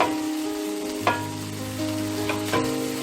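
A chicken shashlik rice mixture with green onions frying over high heat, a steady dense sizzle with a few brief stirring clinks, close and even throughout, and no voices.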